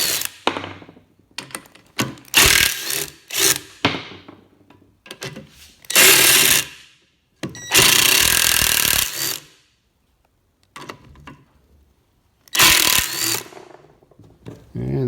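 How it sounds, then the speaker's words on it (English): Ratchet driver spinning nuts off a Ford 9-inch rear end, heard as several loud bursts of fast clicking and whirring separated by short pauses and faint handling noises. "we can use a ratchet driver to take the rest of them off"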